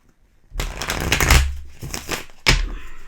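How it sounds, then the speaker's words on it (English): Tarot cards being shuffled, a close, papery riffling and rustling that comes in two bursts, the second starting after a brief pause, with no talking. "I'm going to shuffle here."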